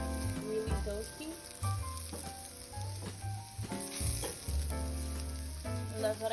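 Spices toast over medium-low heat in a pan, sizzling steadily with a busy crackle, while background music plays over it.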